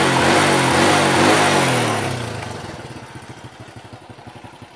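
A motorcycle engine with a small original carburetor, stock engine and shifted ignition timing revs loud and close, holding a high roar before dropping back to a steady, pulsing idle.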